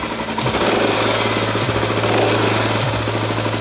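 A Honda XR600R single-cylinder motorcycle engine idles loud and steady right after carburetor work, a close, even thumping drone with a few slight dips in pitch.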